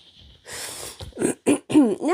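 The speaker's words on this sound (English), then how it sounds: "You know how she's been coughing her lungs out?" A woman clears her throat and coughs during a vocal warm-up, a few rough, close bursts that give way to short voiced, pitch-sliding warm-up sounds.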